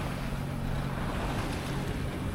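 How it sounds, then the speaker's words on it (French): Sailboat motoring under engine power on the open ocean between La Gomera and Tenerife, a steady low engine drone blended with wind and rushing water along the hull, continuous and fairly loud throughout. "On avance tranquillement au moteur."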